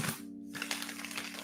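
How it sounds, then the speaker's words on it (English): Tarot cards being shuffled, a dense papery riffle and flutter running throughout, close and steady over a constant low electrical hum. "One more shuffle, please."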